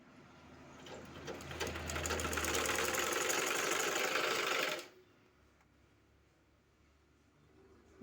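A sewing machine stitches cloth in a fast, loud, steady rattling run that builds up, holds for about three seconds and then stops abruptly, leaving quiet room tone.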